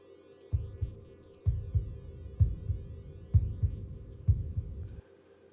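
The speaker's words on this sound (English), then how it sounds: "Let's see if I have a sample of a heartbeat in here." A sampled heartbeat plays alone, a steady run of soft, deep lub-dub thumps repeating roughly every second against a faint hum, then stopping abruptly near the end.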